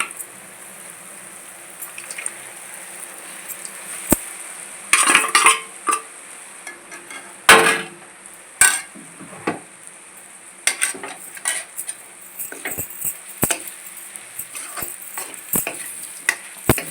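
Fried bitter gourd sizzles in a pan while a spoon stirs and scrapes it, producing bursts of clattering metal scraping over a steady background sizzle, close and fairly loud.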